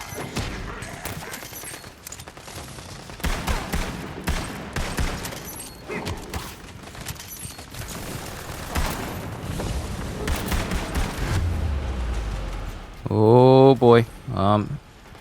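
Rapid gunfire from hip firing in the video game Tiny Tina's Wonderlands, with bursts of loud shots and booms mixed with game effects and a voice talking over much of it.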